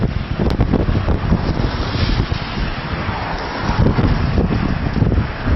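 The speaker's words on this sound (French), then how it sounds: "C'est venteux" Strong outdoor wind roars against the microphone in a continuous, loud rumbling buffet, with some rustling and possible water noise beneath and no speech.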